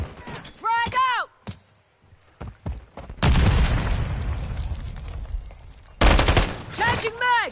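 Grenade explosion and gunfire in the video game Call of Duty Cold War: sharp gunshots, then a long roaring blast, another heavy burst, with voices calling out in between.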